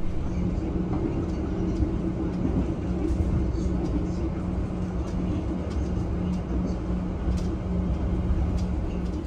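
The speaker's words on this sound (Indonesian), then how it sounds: "Kereta api Gajayana yang saya naiki telah tiba di pusat Daop 5, yaitu di stasiun Purwokerto" Gajayana executive train arriving at Purwokerto station at night, heard from inside the cabin as a steady low rumble with a constant hum, continuous and moderately loud throughout.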